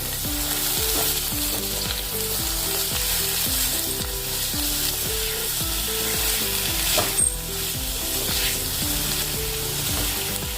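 Capsicum, carrot and tomato sizzle steadily in a pan while being stirred, with a continuous frying hiss and rhythmic scraping of the spoon against the pan.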